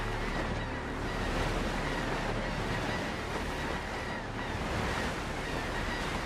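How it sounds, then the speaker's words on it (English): Ocean waves surge and wash steadily in the video game Windrose, a continuous broadband roar with a gusty, wind-like rush that swells slightly and never pauses. "It's like I can feel the waves just tossing me about."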